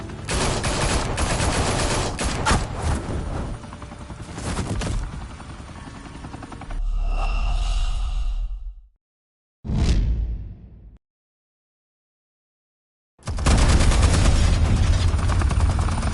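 Gunfire in a Batman video game, with dense bursts of shots and whooshing blasts over a roaring helicopter-like drone, loud and close, dropping to silence midway before a heavy burst returns at the end.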